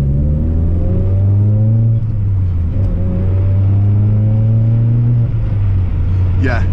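A Suzuki Swift Sport engine fitted with a Sprint Booster V3 hums steadily at low revs, then rises in pitch as it accelerates, with a brief higher whine near the end.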